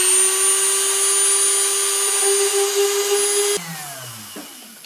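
A Dremel rotary tool drills a hole through a bottle cap, a loud, close, high steady whine that drops sharply in pitch near the end as it bites in and slows, with no talking.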